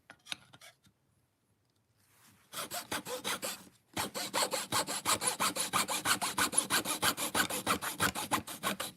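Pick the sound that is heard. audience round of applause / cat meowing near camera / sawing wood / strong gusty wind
sawing wood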